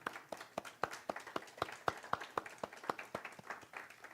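A church congregation at a Sunday service applauds the fathers with steady, quiet claps that form a distinct, even rhythm from a handful of nearby hands.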